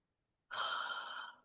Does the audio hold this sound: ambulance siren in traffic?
no